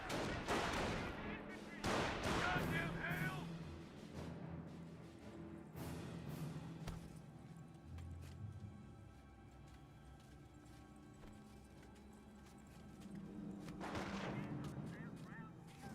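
A .30 cal machine gun fires in Company of Heroes, bursts of rapid gunfire mixed with other battle noise and distant artillery, under a commentator's voice.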